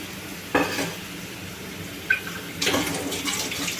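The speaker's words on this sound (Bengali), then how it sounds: "মশলাটাকে ভালো করে কষিয়ে" Spice masala for a vegetarian dhoka dish is stirred in a pan, with a couple of sharp metallic spatula knocks followed by a scraping, sizzling stir.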